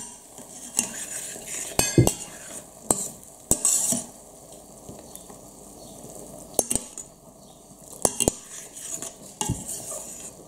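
Lentils simmering in a pot while a spoon stirs them, giving repeated sharp clinks and scrapes against the pot over a soft, steady bubbling sizzle, close and fairly quiet with no talking.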